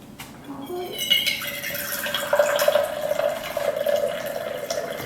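Liquid is poured outdoors from a container, a trickling splash that builds into a steady stream, with faint dripping at the start and no talk.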